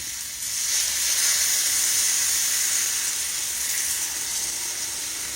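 Water hits a hot skillet of hamburger steak drippings as it turns to gravy, giving a loud, steady sizzling hiss with steam that holds almost unbroken for several seconds.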